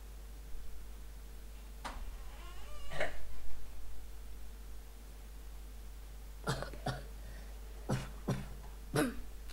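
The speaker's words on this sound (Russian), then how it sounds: "Извините за кашель" Several short coughs spaced apart, a couple early on and a cluster near the end, close to the microphone over a low steady hum.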